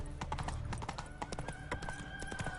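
Horse hooves clip-clop in a steady trotting rhythm in The Witcher 3, close and clear over faint game ambience, with a brief whinny-like tone.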